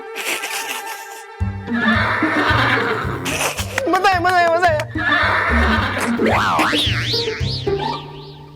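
A horse neighs in a long, loud whinny with rising and falling pitch, following music and talking in a children's fantasy show scene.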